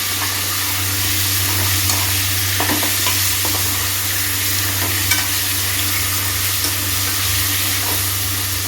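Mutton sautés in a pan with ginger, garlic, salt and turmeric, a loud, continuous close sizzle broken by occasional scraping stirs, with no talking.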